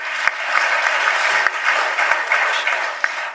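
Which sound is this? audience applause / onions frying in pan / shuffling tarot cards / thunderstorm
audience applause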